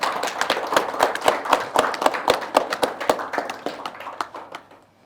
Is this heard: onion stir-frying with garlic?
no